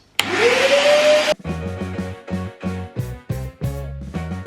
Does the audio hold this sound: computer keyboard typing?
no